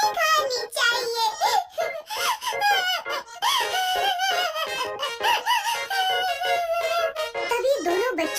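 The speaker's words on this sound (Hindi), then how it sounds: "तभी दोनों बच्चों की रोने की आवाज सुनकर दादाजी उनके कमरे में आए।" Two cartoon children crying and wailing in animated voices, loud and continuous with sobbing rises and squeaky breaks.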